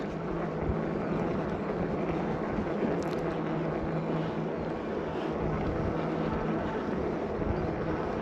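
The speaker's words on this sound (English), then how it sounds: "There's a bit of road noise from the tyres" Steady tyre road noise from a dual-suspension electric bike ridden on a road, a constant broadband rumble and hiss with wind, holding an even level throughout without talking.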